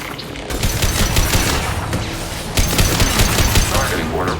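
Hacked defensive turret firing in Mass Effect 2, dense rapid automatic gunfire and impacts continuing without pause amid battle noise, with a synthetic voice speaking partway through.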